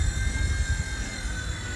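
A V911 RC helicopter's rotor whirs steadily at high throttle, a close, continuous high-pitched electric whine over a low rushing rumble.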